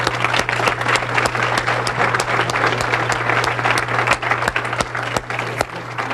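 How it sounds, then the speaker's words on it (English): Audience at a drug prevention panel discussion applauding the panelists, steady sustained clapping from a crowd throughout, with a low constant hum beneath. "let's give a big round of applause to the 3 great guys that you heard tonight"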